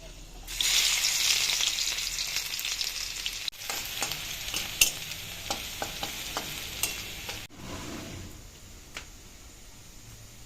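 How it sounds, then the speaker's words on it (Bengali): Dried chili, panch phoron and crushed garlic drop into hot oil with a sharp hiss and bright crackling, followed by spattering pops and stirring clicks that gradually settle into a quieter sizzle. "তেল গরম হয়ে গেছে এবার ফোড়নে নিয়ে নিয়েছি একটা শুকনো লঙ্কা আর একটু পাঁচ ফোড়ন আর দিয়ে দেবো থেতো করা রসুন"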